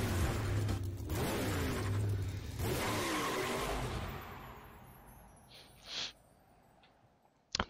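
A race car engine in Skylanders SuperChargers race mode on Xbox revs and whines loudly, then fades away as the car pulls off, leaving a quieter stretch broken by a couple of short mechanical blips.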